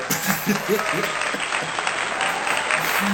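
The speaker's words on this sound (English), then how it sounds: "Y'all clap that thing on up." A crowd applauds steadily, with continuous dense clapping and a voice briefly heard over it.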